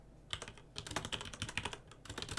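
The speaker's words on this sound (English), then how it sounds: "we're typing in Barz Fury" Fingers type on a computer keyboard in irregular bursts of close, crisp key clicks, with a short pause near the start and another before a final flurry.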